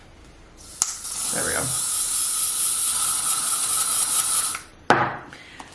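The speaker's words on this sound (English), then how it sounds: "I'm just gonna whack a bit of hairspray on it." Hairspray hisses from an aerosol can onto hair in one steady burst lasting about four seconds, loud and close, with a brief word spoken just before it starts.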